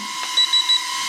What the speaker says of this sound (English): 3 beeps.